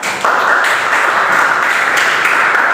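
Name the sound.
applause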